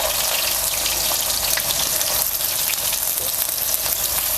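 Chopped onion fries in hot oil with cumin for Kolhapuri misal, making a dense, continuous, close sizzle that holds at an even level.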